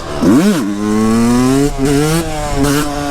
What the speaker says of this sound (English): Let's try a little second gear wheelie, not going too fast.